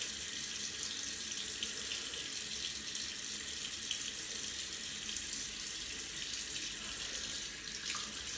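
A bathroom tap runs steadily during a first wet shave with a double-edge safety razor, a constant close hiss of flowing water into the sink with no talking.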